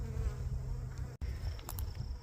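Low, steady buzzing of many bees close by, with a brief dropout midway and a few higher whines of individual insects passing.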